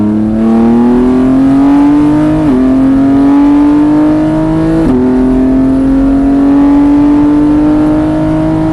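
A race car engine accelerates hard on the Mireval race track, its pitch climbing steadily with two quick gear shifts along the way, loud and close throughout.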